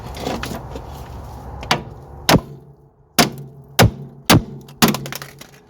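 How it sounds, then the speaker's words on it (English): Several heavy hammer blows land on a Mercedes C-Class front upper wishbone arm taper, about six sharp metal thunks spaced unevenly after a stretch of quieter shuffling. "now we need to break this taper, so I'm going to have to hit that with a hammer"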